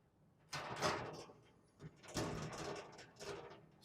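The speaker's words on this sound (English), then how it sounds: "right there is the right door we're gonna close" A steel cabinet door swings shut during assembly, with two broad bursts of rattling, thumping metal handling noise close by, separated by a brief lull.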